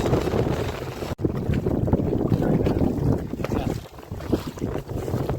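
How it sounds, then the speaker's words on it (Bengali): Strong wind roars against the microphone on a fishing boat in the Sundarbans during a storm, with water spray and waves hissing and slapping close by in a loud, continuous rush. "সামনে প্রচণ্ড হাওয়া হচ্ছে আর জল তুলে দিচ্ছে।"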